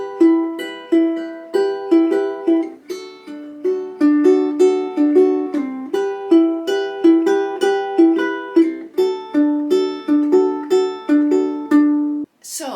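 A ukulele plays the interlude of a song in a lesson arrangement, with bright plucked notes and strummed chords in a steady lilting rhythm, close and clear, alone without voices until a brief scrape at the end.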